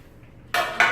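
Metal cake pans for a strawberry cake clatter down on a kitchen counter, two quick loud bright clanks in a row with no talking.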